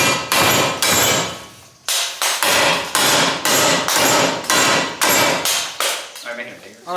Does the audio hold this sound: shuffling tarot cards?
no